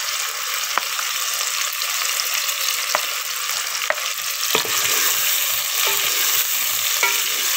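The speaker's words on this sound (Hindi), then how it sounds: "देखिए अब इसमें डालते हैं हरी मिर्चें" Green chilies frying in a pan for an okra and onion dish: a loud, dense, steady sizzle with a few sharp clicks of a spoon, growing slightly fuller midway, with no talk.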